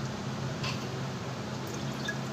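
Water runs into a pot being filled for a ritual bath during home worship, making a continuous close wash of pouring with a few faint drips.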